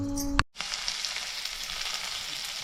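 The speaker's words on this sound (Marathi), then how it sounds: "कांदा टाकला फोडणी दिली" Onion hits hot oil with a sharp clatter, then a loud, steady sizzle of frying continues without pause.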